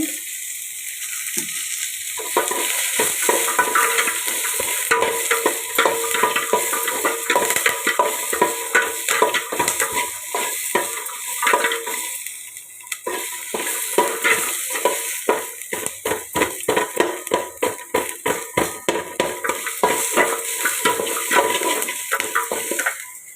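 Ingredients sautéing in sesame oil for a chickpea kuzhambu, a continuous hiss and crackle with dense rapid stirring scrapes in a pan, loud and close.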